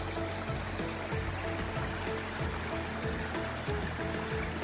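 A stream flows beside a Pennsylvania stretch of the Appalachian Trail in March, a steady broadband rush and burble of water, faint and continuous with no voices.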